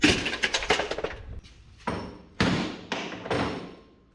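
Worn old rotor parts from a 1963 Loadstar thrown into a scrap barrel, a run of loud metallic thuds and clanks, a quick cluster first, then several separate heavy drops close by.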